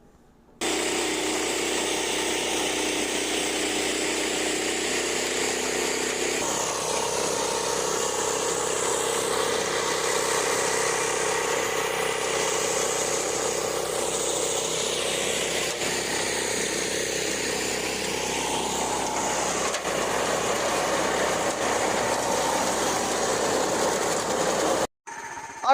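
A Farmall H tractor fitted with a Duromax 440cc 18 HP engine running steadily, a close, loud continuous engine drone for about twenty-five seconds with a brief cutoff near the end.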